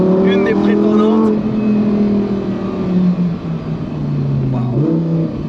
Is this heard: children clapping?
no